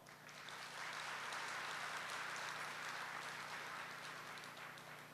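An audience at a spiritual talk breaks into steady applause, a dense, even clapping that swells quickly and holds for several seconds at a moderate distance.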